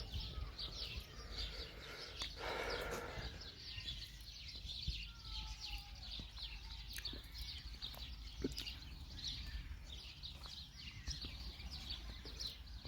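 Birds chirp and twitter repeatedly in a garden in the Netherlands, with soft rustling and ambient outdoor noise underneath.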